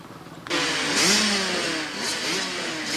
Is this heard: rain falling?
no